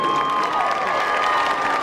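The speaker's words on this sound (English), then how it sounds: "One more round of applause for the Screaming Eagle Band." Crowd applause and some cheering for a school marching band at a district spirit spectacular, a dense, continuous roar of clapping with steady tones sustained beneath it.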